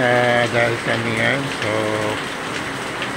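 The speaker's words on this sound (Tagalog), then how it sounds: "panay pang ulan dito sa Southern Luzon" Steady rain hisses in the background on the shoreline in Bulan, Sorsogon, Philippines, while a person talks over it.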